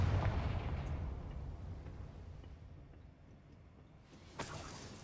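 A Confringo fire spell blast in the video game Hogwarts Legacy: a deep, booming low rumble that slowly decays, followed by a sharper, brighter burst near the end, fairly quiet and with no talk.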